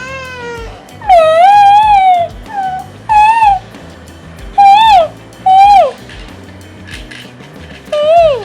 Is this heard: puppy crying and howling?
yes